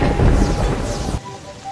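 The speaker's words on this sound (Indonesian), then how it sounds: "Itu hujan." Rain and thunder from the video game Terraria, a loud broadband roar of heavy rain with rumbling thunder for over a second, then dropping to a quieter ambient hiss.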